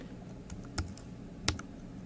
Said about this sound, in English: I'm going to have to type in my value. I'm going to type in 15.